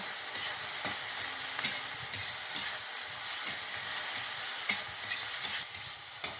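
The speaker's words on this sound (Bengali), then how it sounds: "ওল ভাজা হয়ে গেছে অখন আমি ওলুন নামাইলাম" Chunks of elephant foot yam sizzle steadily in a pan with salt and a little turmeric, while a spatula stirs them with intermittent scraping clicks against the metal.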